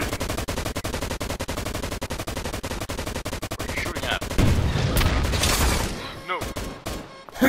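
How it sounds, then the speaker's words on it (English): Cone launcher weapon firing in the video game Toaster Arena: a rapid, steady stream of loud clattering shots for about four seconds, then a heavier burst of booming blasts and a scramble of noisy action. "I'm gonna get him with the cone launcher."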